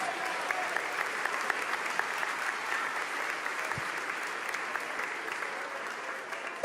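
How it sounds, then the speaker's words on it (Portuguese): A church congregation at a Sunday morning service clapping together in praise, a broad, even wash of many hands held at a steady level for several seconds, fairly distant and with no speech. "Aplauda o Senhor, meus irmãos."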